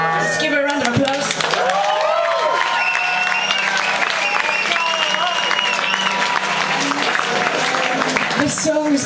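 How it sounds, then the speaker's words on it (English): Loud, continuous applause and cheering from a concert crowd at the Jazz Cafe in London, thick clapping over a steady hum, with tonal sounds woven through it. "Let's give her a round of applause."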